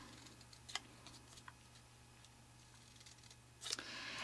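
Cardstock corners snipped along marked cut lines to make pinwheel flaps: a few faint, scattered scissor clicks in a quiet room, with a louder snip near the end.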